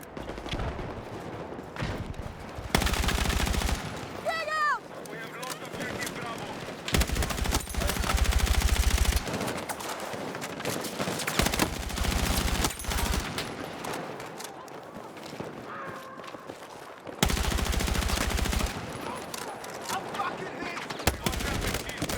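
Gunfire in the video game Battlefield 6, with repeated bursts of rapid automatic shots and scattered single shots, some loud and close, others fainter, alongside a player talking.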